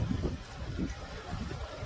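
Strong wind gusts across a lodge's rooftop terrace during a rainstorm, a continuous low roar buffeting the microphone at close range, with no one talking.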